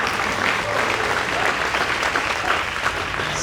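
Dense applause from an audience at a middle school prize day fills the whole moment, steady and fairly loud, with a faint murmur of crowd underneath.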